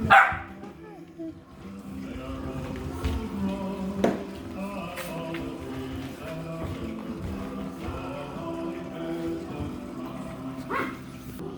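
Puppies bark and yip in a busy indoor Christmas gathering, with repeated short barks over ongoing chatter and a few sharper yelps nearby.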